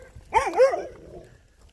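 A single dog lets out a short, close, wavering bark-yelp during a neighbourhood walk, rising and bending in pitch before fading into quiet street background.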